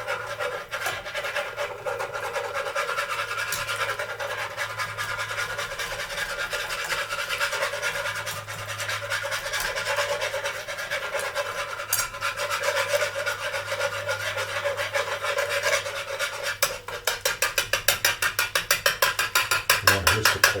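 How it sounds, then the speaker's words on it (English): A whisk works flour into egg chowder in a pot, giving a steady close-up scraping and rubbing that speeds into quick rhythmic strokes near the end, with no talking. "You want to whisk it quite a bit."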